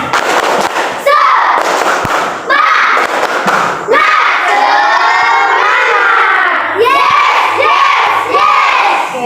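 A classroom of students performs the rhythmic tepuk semangat clapping chant, loud and close, with bursts of claps and shouted chanting voices led by a teacher.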